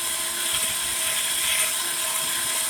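Wet sanding of a JDM fog light lens with 800-grit sandpaper by hand, a steady, continuous hiss and rasp with a high whine-like tone, close and fairly loud with no talk over it.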